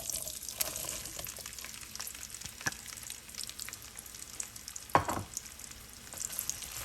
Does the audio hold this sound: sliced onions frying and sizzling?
yes